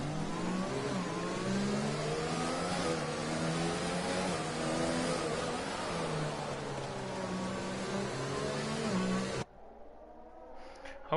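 F1 race cars from the F1 2020 game on a formation lap at Monaco, a steady droning whine of several engines with shifting pitch sweeps, loud and continuous before cutting off near the end to a quiet background.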